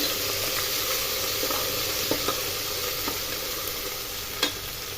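A rice masala mixture fries in a pan, giving a continuous loud sizzle with occasional light knocks and clinks of a stirring spoon against the pan.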